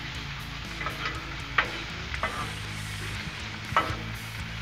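Cheesesteak filling with seasoning mixed on a hot griddle, a faint steady sizzle with occasional light spatula taps and scrapes.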